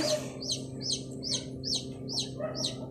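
Rapid high-pitched peeping of baby chicks inside an incubator, repeating in steady bursts about twice a second over the incubator's low constant hum, fairly close.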